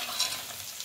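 Peanuts with turmeric sautéed in a kadhai for poha, a short burst of close sizzling and stirring.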